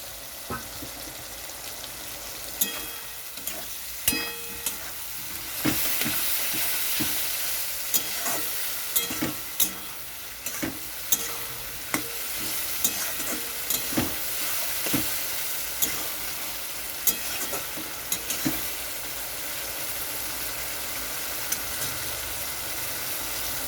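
Spice paste frying in a pan for a Bengali potato curry with papad, with water added to it. It sizzles and hisses steadily and stays loud throughout, broken by frequent clinks and scrapes of a stirring spoon.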